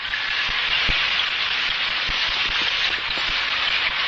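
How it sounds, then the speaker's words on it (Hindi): Steady rain falls outside in an animated scene, a dense continuous hiss with scattered heavier drops, no voices over it. "बाहर बारिश हो रही है।"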